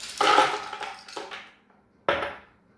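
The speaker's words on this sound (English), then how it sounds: "I'll add the glass of ice." Ice cubes tumble from a glass into a blender jar while making an orange smoothie for an Oster versus Vitamix blender comparison, two clattering bursts: a longer rattling spill followed by a shorter sharp clatter, close and fairly loud.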